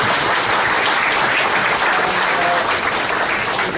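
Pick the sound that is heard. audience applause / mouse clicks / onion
audience applause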